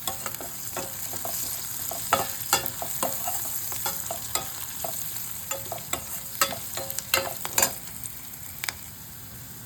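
Onions and curry leaves fry in a pan with a constant sizzle, broken by frequent sharp scrapes and clinks of a spoon stirring, no voices.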